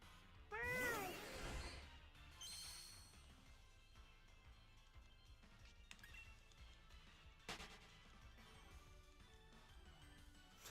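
Cat meowing in a short loud rising cry near the start, followed by faint background clatter and a couple of sharp knocks.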